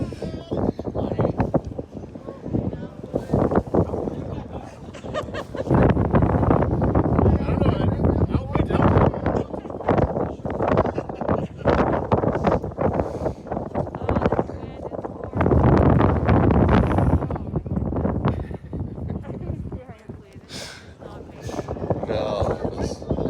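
Strong wind gusting across the microphone at an outdoor 14U youth baseball game, a loud roaring rumble that swells and eases in long waves throughout.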